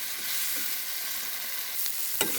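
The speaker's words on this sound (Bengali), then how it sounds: "পেঁয়াজটা একটু ভাজা ভাজা করে নিচ্ছি" Onions fry in a pan with a steady, moderately loud sizzle and crackle, a couple of brief utensil taps near the end, and no talking.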